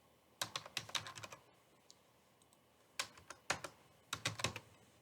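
Close typing on a computer keyboard in a software tutorial: two short bursts of clicky keystrokes separated by a pause, over faint background hiss.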